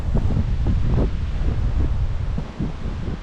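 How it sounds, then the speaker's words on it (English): Strong gusty wind buffets the microphone on a rooftop above a container house, a continuous low rumbling roar with uneven surges and no talking. "That wind is so hectic though."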